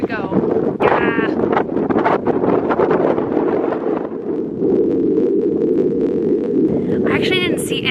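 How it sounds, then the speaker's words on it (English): Gusty wind buffets the microphone outdoors in a flower garden, a loud, rough rumble that continues throughout while a person speaks over the first part. "I actually didn't see anything on the forecast about wind today."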